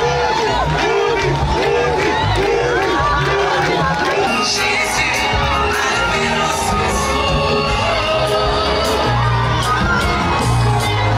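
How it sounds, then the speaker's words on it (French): Euphoric crowd cheering and hurrahs greet former Ivorian president Laurent Gbagbo as his motorcade arrives at a church headquarters in Côte d'Ivoire, with loud, continuous shouting, whoops and chanting voices, some of them children, overlapping throughout. "Les hurrahs et les acclamations accompagnent le président"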